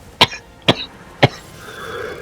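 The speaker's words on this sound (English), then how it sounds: "I'm coughing up a storm here" Three sharp, close coughs ring out at roughly half-second intervals, each a short harsh burst, followed by quiet room tone.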